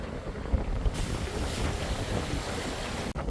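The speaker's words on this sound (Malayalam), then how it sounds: "ഉച്ച സമയമായപ്പോഴേക്കും കാറ്റ് കുറച്ച് കൂടിയിട്ടുണ്ട് കേട്ടോ" Steady roar of strong wind buffeting the microphone at sea on a deep-sea line fishing trip, with a broad rushing wash of waves and open water beneath, continuous throughout.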